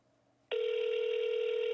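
After a brief quiet moment, a telephone ring tone starts abruptly and holds as a steady, clear electronic tone on an outgoing call.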